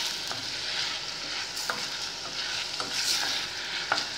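Liver fries in a pan under a constant soft sizzle while being stirred, with scattered scraping clicks of the utensil against the pan at close range.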